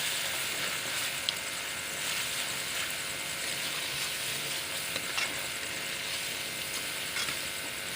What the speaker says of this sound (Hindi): अब इनकी अच्छी तरह भुनाई करती हूँ।